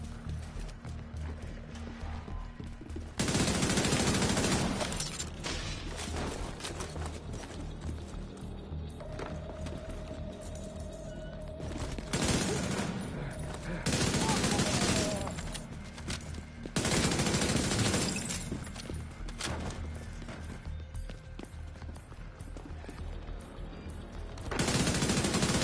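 Gunfire in The Division 2 video game comes in repeated heavy bursts between quieter stretches of combat noise, some of them long and loud.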